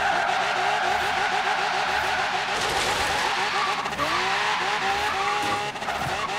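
An old truck slides off-road in Forza Horizon 3, its engine droning steadily while tires squeal and skid in rising and falling sweeps, loud and close throughout.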